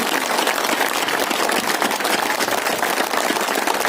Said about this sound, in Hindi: प्रत्येक व्यक्ति खड़ा होकर अपने स्थान पे खड़ा होकर जोरदार तालियां प्रवीण भारतीय के लिए